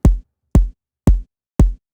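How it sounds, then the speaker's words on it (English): A layered kick drum with a body layer, a punchy transient and an acoustic layer hits four times at an even pace, each hit deep, loud and short, with silence between. "this kick has a body layer, a transient, and a kind of acoustic layer on top of it"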